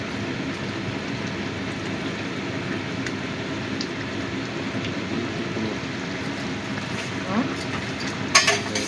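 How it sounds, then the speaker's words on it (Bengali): Katla fish pieces go into a boiling thin fish curry, which makes a steady, close bubbling sizzle throughout with a few sharper splashes and clatters near the end. "ঝোলটা ফুটে গেছে, এবার আমি মাছগুলো দিয়ে দিচ্ছি।"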